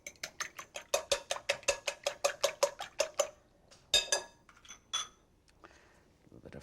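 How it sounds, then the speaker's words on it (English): Eggs whisked in a bowl for a ricotta filling: a fast, even run of about fourteen sharp clinks from a whisk against the bowl, close and clear, followed by a few scattered taps. "Let me just whisk the eggs before I do that."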